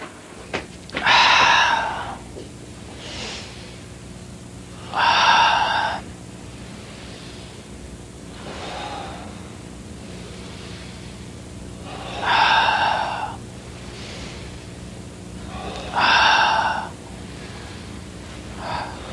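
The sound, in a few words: spinal cord breathing exercise, deep inhaling and exhaling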